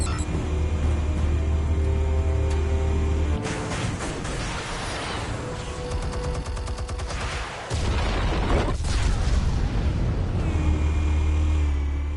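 Explosives detonating in the Telltale Batman game set off a loud burst of crackling blasts and rumbling debris that builds from a steady hum, cuts off sharply, then returns over a low drone, with no talking.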